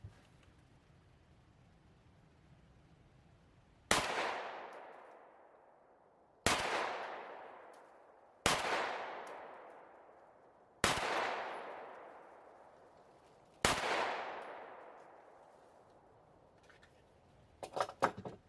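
Five sharp gunshots with lead-free heavy-shot rounds fired at a target, spaced a couple of seconds apart, each a loud crack with a long decaying ring, followed by faint clatter at the end.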